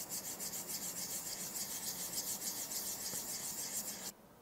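Steady soft rasping of an Innisfree powder puff rubbed in its compact, close and continuous, with brushy high hiss that stops abruptly near the end.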